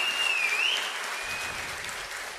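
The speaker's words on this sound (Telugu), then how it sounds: "గట్టిగా చప్పట్లు కూడా అందరూ అభినందించాల్సిందిగా కోరుతున్నాం" An audience claps at a book launch event, a brief burst of applause heard from a distance, with a faint whistle-like tone rising over it at the start before the clapping fades slightly.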